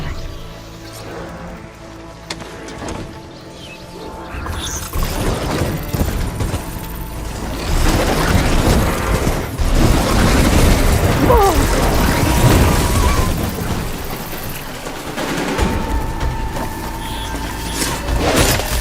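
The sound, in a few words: shooting at a machine in the video game Horizon Forbidden West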